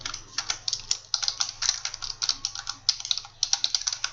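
Rapid, uneven clatter of a computer keyboard being typed on, close up and continuous with short pauses, with no talking.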